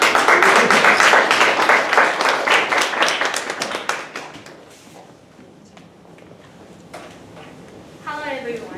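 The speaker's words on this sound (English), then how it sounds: "So, let's give Hagumi a round of applause." Audience applause greets the next speaker at a school English speech contest, a dense burst of claps that fades after about four seconds into quieter room noise, with a few scattered sounds and a voice starting near the end.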